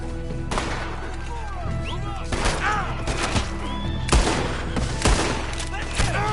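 Gunfire in Red Dead Redemption 2 during a shootout, several sharp shots cracking at irregular intervals amid neighing horses and game noise, loud and close, with voices shouting in between.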